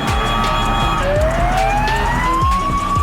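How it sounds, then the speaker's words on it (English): An Australian police car siren wails steadily, its pitch sweeping up and down continuously, loud and close over a rumbling vehicle engine. "Australia police car."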